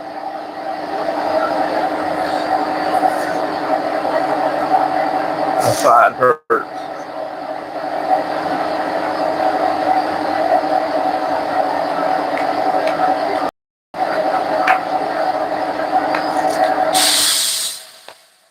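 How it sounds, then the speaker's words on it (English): A shop air compressor runs loud and steady with a constant droning hum, cut off by brief dropouts and ending in a hissing release. A voice speaks briefly over it. "I'll be back whenever the compressor decides to shut up."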